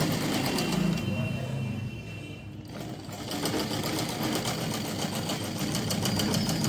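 A sewing machine stitches the side seams of a baby suit, running in a fast, even chatter close by, easing off briefly midway before resuming at full pace.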